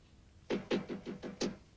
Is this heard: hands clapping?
no